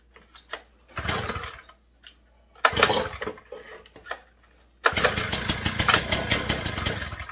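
A Stihl TS 350 cut-off saw with a clogged muffler and stuck choke sputters to life in two short, uneven bursts, then settles into a loud, rough, steady run close by without revving up.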